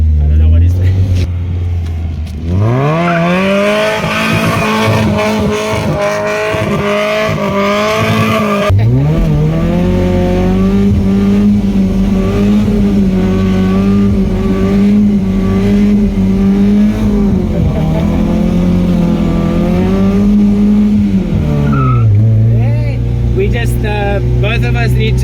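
A modified Nissan 1400 with a carbureted A14 engine does a long burnout, the engine held at high revs while tyres squeal and skid continuously, loud and close, easing off near the end.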